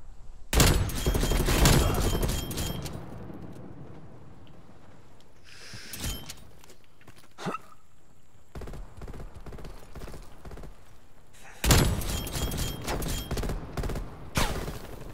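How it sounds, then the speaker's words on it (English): Bursts of gunfire crackle in Call of Duty Black Ops Cold War, two loud volleys of rapid shots at the start and end with scattered single shots between, fairly distant and without talk. "Where's this man shooting at?"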